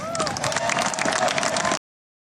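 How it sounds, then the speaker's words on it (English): A short burst of audience applause and cheering at a political speech, dense and lively for under two seconds before it cuts off abruptly. "Give them another round of applause."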